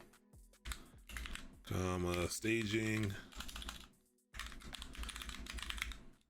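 Computer keyboard typing in short rapid bursts, fairly quiet and close, broken by stretches where someone talks over and between the keystrokes.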